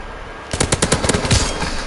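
A custom gun in a video game fires a rapid burst of about a dozen loud, evenly spaced shots, close and dominant, with no talk over it.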